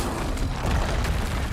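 A Confringo blasting-spell explosion in the video game Hogwarts Legacy: a loud, rumbling, noisy burst that holds steady for a moment with no voices over it.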